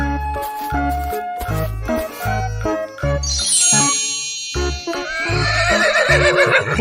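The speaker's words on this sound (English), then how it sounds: "Horse." A horse whinny rises and trails off over a bouncy children's tune with thumping bass notes and bright jingling chimes, loud and close, from a kids' animal sounds song.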